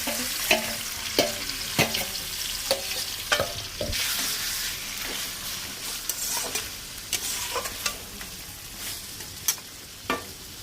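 Meat browning in hot oil with spices, stirred at a steady rhythm so a spoon scrapes and clacks against the pan every second or so over a constant sizzle, close and fairly loud.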